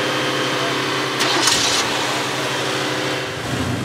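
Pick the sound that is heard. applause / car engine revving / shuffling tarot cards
car engine revving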